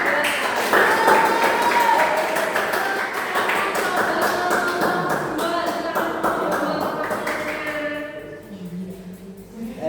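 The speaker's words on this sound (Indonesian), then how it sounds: "tepuk tangan untuk kelompok 3" A junior high school class applauds a student group, a brief burst of clapping that fades out, with voices talking and murmuring over and after it.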